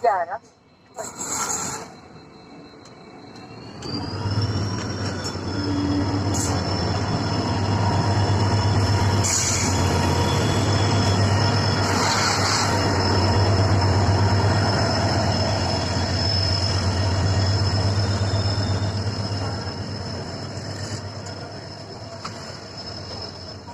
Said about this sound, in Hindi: तो गाइज, हमारी ट्रेन है पीछे खड़ी है